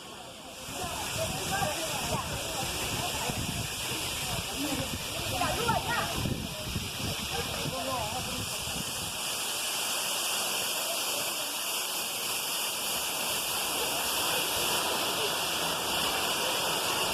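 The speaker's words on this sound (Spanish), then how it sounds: "Escuchen el sonido del agua." Water pours steadily at the Guanamo waterfall, 2150 metres up, a constant broad hissing rush heard close, with voices talking over it for the first half.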